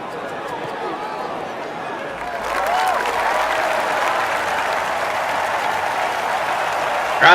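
Loud crowd applause and cheering from a PGA Tour golf video game erupts after a shot and holds steady, with someone talking over it.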